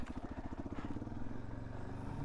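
Suzuki DRZ 400S dirt bike riding a trail, a fairly faint, steady engine chug with a rapid pulsing rhythm and no voices.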